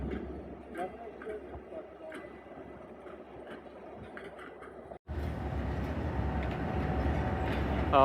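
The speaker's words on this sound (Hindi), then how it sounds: "तो अब हो चुका है जी इसका विसल और स्लो स्लो मूव कर रही है" Jaffar Express pulling slowly out of platform 9 at Lahore station, a low rolling rumble that suddenly swells louder and denser midway as the train gets moving, with faint clatter and voices on the platform.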